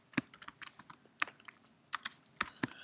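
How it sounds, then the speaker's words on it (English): Typing a command on a computer keyboard, with distinct sharp key clicks in an irregular rhythm, close and fairly quiet, with no talking. "we're going to type in CO compress"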